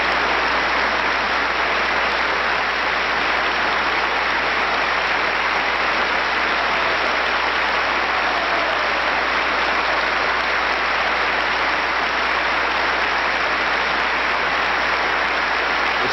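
A large audience at a concert honoring President Nixon's second inauguration applauds loudly and steadily, a dense unbroken roar of clapping that holds for the whole span with no talking.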